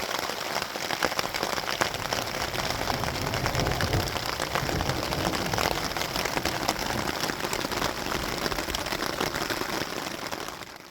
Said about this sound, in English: It's interesting being here in a pretty good thunderstorm when you're all alone.